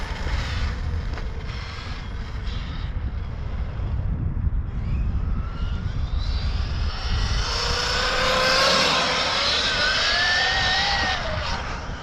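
A 12S Arrma Kraton RC car on a speed run, its electric motor whining in a rising and falling pitch that climbs to a loud high-speed scream, over rough rolling and wind noise, with no voices.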